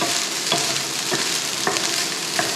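Egg fried rice stir-fried over high heat with salt and sugar, a dense, steady sizzle punctuated by regular scraping strokes of a spatula tossing the rice roughly every half second.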